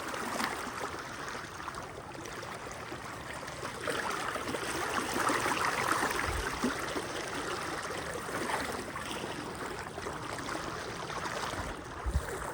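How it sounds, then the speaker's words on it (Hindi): Steady rushing floodwater in a village, a continuous broad roar of fast-moving flow that stays loud and even throughout, with no voices. "उस जगह पे बहुत ही तेज़ पानी है"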